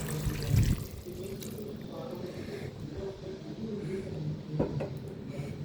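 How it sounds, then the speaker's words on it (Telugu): Water poured into a pan of broad bean (chikudu kaya) curry, a soft splashing trickle with faint clatter in a quiet kitchen. "మీకు సరిపోయినంత నీళ్ళు వేసుకోండి"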